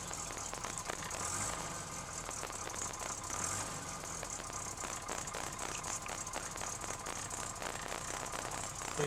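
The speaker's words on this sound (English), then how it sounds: "Nice sound of the A series with the twin SU carburetors." An Austin 1300GT's A-series engine with twin SU carburetors runs at a steady idle, with a continuous rattly mechanical tone close by and no voices over it.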